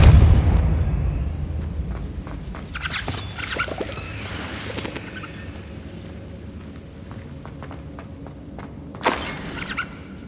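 The Depulso spell cast in Hogwarts Legacy, a video game: a deep booming burst at the start, then quieter scattered game effects and footsteps, with a sharp bright blast near the end.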